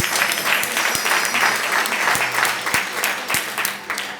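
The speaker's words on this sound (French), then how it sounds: "Acclame-moi un peu." A church congregation at a sermon bursts into steady, dense applause, loud and close, with rhythmic claps standing out and a few voices in the crowd.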